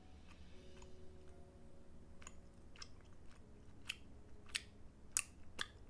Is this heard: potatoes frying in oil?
no